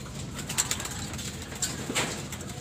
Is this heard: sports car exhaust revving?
no